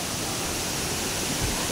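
Hidden waterfall pouring steadily, a dense broadband rushing roar heard close and constant, with no voices over it.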